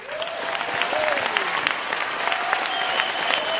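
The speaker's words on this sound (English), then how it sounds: "give him a warm round of applause" A crowd at a political event gives speaker Paul Mason a steady round of applause, the clapping even and sustained, with a few whoops and voices faintly over it.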